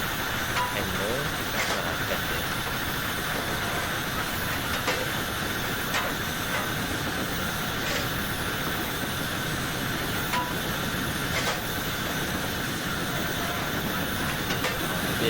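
A GWR Autotrain steam train in Train Simulator climbs a gradient toward Penryn on the Falmouth Branch, giving a steady, close, continuous rumble with hiss that holds an even level throughout.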